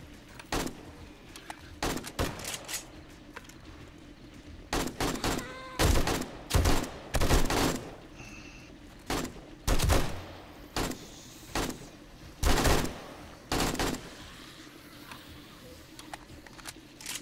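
Video game gunfire aimed at enemies in an underground base, loud bursts of rapid shots in irregular clusters separated by brief pauses, with faint voices in the background.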